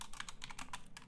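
Quick bursts of typing on a computer keyboard, a dense run of close, crisp key clicks lasting about a second.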